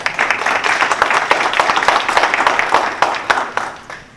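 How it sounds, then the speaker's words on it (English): An audience at a Florida Senate District 38 advisory board meeting gives a round of applause, close and fairly loud individual claps blending into a lively patter that tapers off at the end. "A nice round of applause"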